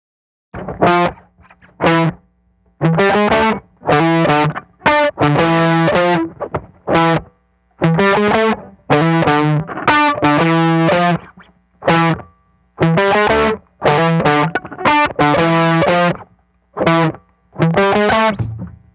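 Heavily fuzzed electric guitar through a Dophix Medici Dual Fuzz pedal, buzzy and saturated, played in short choppy bursts and phrases with brief silences between them.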